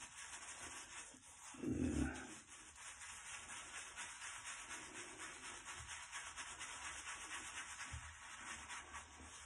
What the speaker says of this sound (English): I'm going to lather my whole face because it feels good